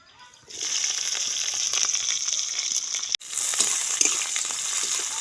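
Green chilli, garlic and onion hit hot oil in a wok for a village-style stir-fry, bursting into a loud, steady, close sizzle after a quiet half-second, with a brief break near the middle before the crackling resumes.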